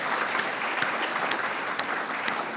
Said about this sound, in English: I think we should have a round of applause for the Atlantic and what they've done here